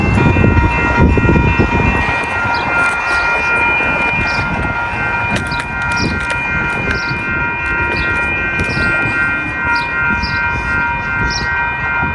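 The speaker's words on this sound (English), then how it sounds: "Number 649 to Barrington is now arriving." A Metra commuter train to Barrington arriving at Arlington Park station, a loud close rumble of rolling cars under steady tonal ringing, continuous throughout with no voices.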